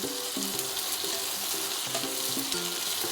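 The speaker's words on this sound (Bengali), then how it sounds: "তো টমেটোগুলো দিয়ে ভালো করে আমি একটু টমেটোটাকে ভেজে নেব" Tomatoes frying with onions in a pan for khirod katla, a continuous bright sizzle with faint rhythmic tones and light stirring underneath, close and fairly quiet.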